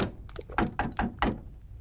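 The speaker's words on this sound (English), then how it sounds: "A frantic banging on my chamber door had me in a sweat." Frantic banging on a chamber door: a rapid series of about six hollow, heavy thuds in uneven succession, close and fairly loud, with nothing else around them.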